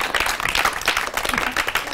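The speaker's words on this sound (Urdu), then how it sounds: "آپ کو تالیاں بجانی چاہیے نا" A studio audience on a televised Ramadan iftar show claps in a steady, lively round of applause. There is some faint talk mixed in.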